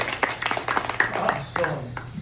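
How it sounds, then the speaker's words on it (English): Applause from a small audience at a magic show, a patter of uneven handclaps rising and dipping, fairly close, with a few voices mixed in. "Round of applause."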